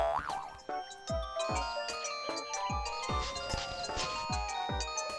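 A phone rings with a bouncy, repeating electronic melody of plucky notes, fairly close and clear, with no talking over it.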